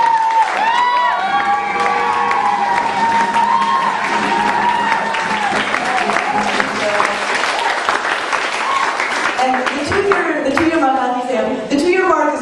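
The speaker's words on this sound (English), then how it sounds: "let's have a round of applause for our 2-year staff members" Loud, sustained applause and cheering from a closing-ceremony crowd honoring two-year staff members, with whoops and children's shouts mixed in, swelling throughout and fading at the end.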